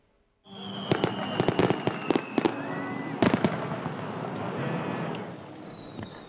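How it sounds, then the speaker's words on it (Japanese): Fireworks burst in a string of sharp booms and crackles, some in quick clusters, with whistling trails rising between explosions, from a 1000-shot memorial display over the beach at Ofunato, Japan. "1000発の花火が夜空を照らしました"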